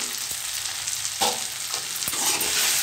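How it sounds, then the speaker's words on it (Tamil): Guava pieces and coriander sautéing in a pan for guava chutney, a steady close sizzle and frying crackle with a few stirring scrapes and brief louder bursts, no talking. "கொய்யாக்காய் சேர்ந்து வதங்கிடுச்சு. இப்போது கொத்தமல்லி சேர்த்துக்கலாம்."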